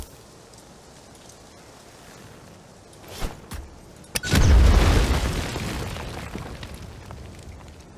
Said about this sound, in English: Wow, that was a really nice explosion.